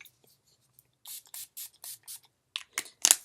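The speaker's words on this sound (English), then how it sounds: "I'm going to prime my face with my NYX primer spray." NYX primer spray mists onto a face in a series of about five short, close hissing bursts, evenly spaced, followed by a few sharper spritzes at the end, with no talk.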